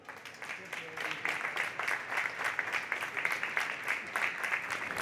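A studio audience applauds at the close of a French talk show, a continuous even wash of clapping at moderate level with no voices over it.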